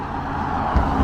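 Street traffic in a small river town beside the Ohio River: a steady wash of passing vehicle noise, fairly close, with a low engine rumble swelling near the end.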